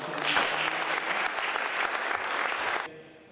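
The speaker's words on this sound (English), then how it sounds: "Let's give you another round of applause." An audience applauds the Coast Guard and AMVETS color guards at a Purple Heart Highway dedication, a steady wash of clapping that stops abruptly shortly before the end.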